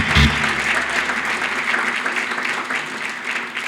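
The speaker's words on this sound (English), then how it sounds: "Clap for him, everybody." An audience applauds a former Senegalese footballer as he is introduced, with steady, fairly loud clapping filling the hall throughout.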